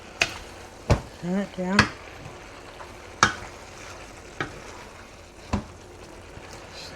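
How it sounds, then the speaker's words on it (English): San choy bao filling with sesame oil stir-fries quietly in a pan, with sharp scattered spatula clacks and a soft sizzle beneath, while a voice speaks briefly. "Stir it around."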